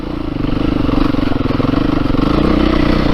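A 2022 Beta 430 RR-S dirt bike engine thumps steadily at low throttle while riding, loud and close, with a rhythmic pulsing drone and slight rises in revs.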